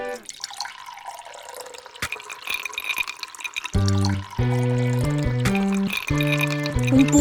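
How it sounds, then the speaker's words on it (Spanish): Water drips and trickles from a water purifier, first as scattered close drops, then joined by a loud bright musical melody that carries the rest of the clip. "Un purificador de agua, purificador de agua"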